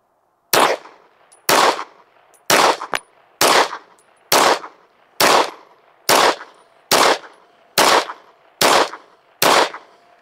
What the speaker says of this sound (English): let's shoot another group at that bottom right target